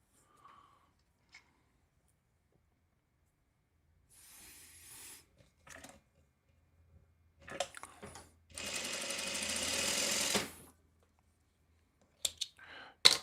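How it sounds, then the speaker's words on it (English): A sewing machine stitches fabric in short bursts and one sustained run of about two seconds, with clicks and handling noises between stitches in a quiet room. "Okay, let's get sewing with these."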